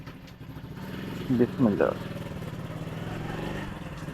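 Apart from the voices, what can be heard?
motorcycle engine with a broken silencer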